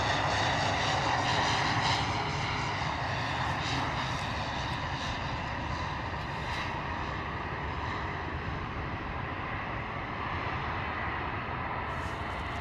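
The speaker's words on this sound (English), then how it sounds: "Little gorgeous little PC-12 there." A Pilatus PC-12 turboprop passes nearby, its engine and propeller giving a loud, sustained droning roar that gradually eases off, heard without talk.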